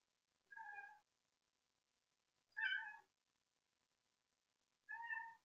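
A cat carrying a toy in its mouth gives three separate muffled meows, evenly spaced about two seconds apart, moderately close, with silence in between.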